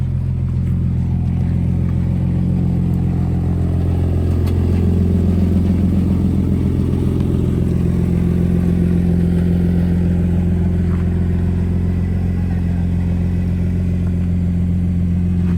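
A car fitted with an aftermarket body kit pulls away on a test drive, its engine holding a steady, loud low drone throughout with faint clatter and no talking.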